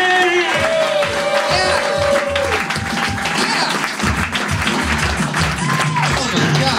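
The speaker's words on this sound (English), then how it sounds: "listen to that nice cold night applause" A comedy club crowd at the Comedy Store claps steadily and loudly throughout, with cheers and whoops on top and a voice speaking over the applause.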